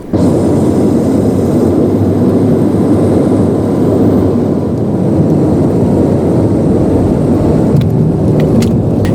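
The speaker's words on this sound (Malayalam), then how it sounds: "ഇപ്പോൾ ഫ്ലൈറ്റ് ഇറങ്ങിക്കൊണ്ടിരിക്കുകയാണ്" A passenger flight lands in Finland and touches down on the runway. A loud, unbroken roar of engine and rushing air fills the whole stretch, with a slight shift in tone near the end.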